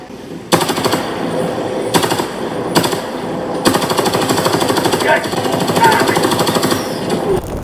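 Rapid automatic gunfire from a support weapon in the video game Helldivers 2, delivered in loud sustained bursts with brief gaps between them, close and dominant, with faint game sounds behind.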